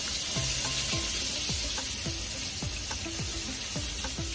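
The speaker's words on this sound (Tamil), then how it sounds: "அப்புறம் அதை வந்து ஜஸ்ட் கொஞ்ச நேரம் ஃப்ரை பண்ணி வச்சுங்க" Food frying in oil in a home kitchen, a steady loud sizzle with repeated clicks and scrapes of stirring, no voices.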